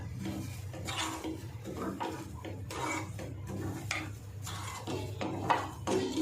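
Millet and jaggery sweet is stirred in a pan over low heat, a busy run of scraping and knocking of a spoon against the pan, close and moderately quiet with no talk.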